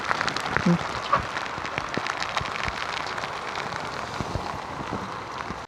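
Typhoon downpour drums continuously on a flooded small farm near the piggery, a broad steady wash with scattered sharper drop hits.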